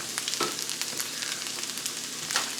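Hash browns sizzle and crackle steadily in a pan, seasoned only with salt and pepper, with small pops and scraping sounds over the close, even frying noise and no talking.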